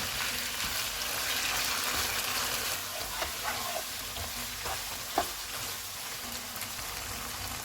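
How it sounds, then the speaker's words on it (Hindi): About 500 grams of boneless chicken with ginger-garlic paste frying over high heat in a pot, a continuous hissing sizzle with a few soft scraping stirs near the end, nearby and without talk. "चूल्हे को फुल रखेंगे और चिकन को 3 से 4 मिनट तक भूनेंगे"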